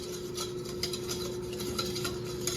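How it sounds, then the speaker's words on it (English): A whisk scrapes and stirs steadily through a blonde roux of flour and fat cooking for cheese sauce, a soft continuous rhythmic rubbing against the pan, fairly quiet with a faint steady hum behind it. "you wanna keep whisking it, and then you're cooking it to cook out the flour"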